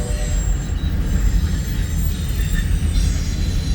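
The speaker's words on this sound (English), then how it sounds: "There's a Conrail." A Conrail freight train passes on the main line in Fremont, Nebraska, a loud, steady rumble of wheels on rail with faint squealing, heard close and continuous.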